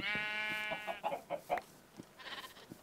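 Sheep bleat in the Minecraft Ex Nihilo Skyblock mod, a long wavering bleat followed by several shorter bleats in quick succession, close and clear with no talk over them.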